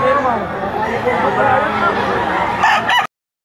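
A gamefowl stag rooster crows amid the steady hubbub of a busy poultry market, its call rising over constant nearby talk and crowd babble before the sound cuts off abruptly.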